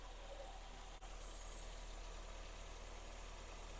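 A classic Metro 998 engine with an SU carburettor idles steadily while running rich, a continuous low rumble with no break except one brief dip near the start.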